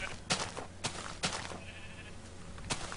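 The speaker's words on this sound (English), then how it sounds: "Eat the sheep." Sheep bleat in Minecraft with the Mo'Creatures mod, several short repeated bleats spaced across a few seconds over steady game ambience and a faint tonal sound.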